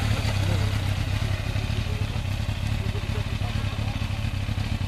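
A motorcycle engine runs steadily and loudly close by, a dense continuous drone with a rough low rumble that holds without clear revving peaks.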